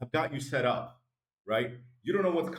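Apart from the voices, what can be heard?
None of the usual background noises is heard.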